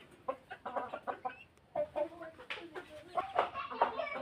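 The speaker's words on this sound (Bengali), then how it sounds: "এই যে গলাচুলা হাইব্রিড মুরগি, মিশরি ফার্মি মুরগি, এই যে চীনি মুরগি।" Assorted chickens at a market poultry farm, including hybrid naked-neck, Egyptian farm and Chinese breeds, give repeated short clucks and calls at close range, with a bird's cry near the end amid busy background noise.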